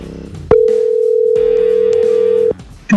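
A phone call tone through a Sena 50S motorcycle headset, one steady loud ringback tone lasting about two seconds, close and alone, then cut off.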